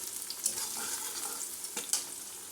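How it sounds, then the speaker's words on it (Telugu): Ginger garlic paste fries in hot oil with a soft continuous sizzle and crackle, broken by a few brief clinks of a stirring spoon against the pan, and no voices. "ఆయిల్లో పచ్చివాసన పోయే వరకు 1 నిమిషం ఫ్రై చేసుకుందామండి."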